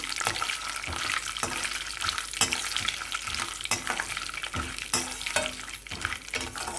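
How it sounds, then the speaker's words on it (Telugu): Mustard seeds, urad dal and chana dal fry in hot oil, a steady bright sizzle with frequent sharp pops and crackles of the seeds, close up and quiet overall. "ఆవాలు మినపప్పు కొంచెం శనగపప్పు అలాగే వేసిన పప్పులు చక్కగా వేయించుకోండి"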